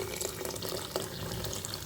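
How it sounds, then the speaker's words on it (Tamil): Thick boiled milk is poured into a pan in a short, steady, close liquid stream that gurgles softly, with no voices over it. "இப்போ இதில் நம்ம பால் சேர்த்துக்கலாம்"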